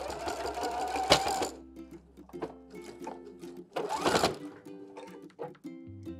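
Sewing machine edge-stitching ribbon along the top of a dress, running in close steady whirring bursts separated by short pauses and clicks.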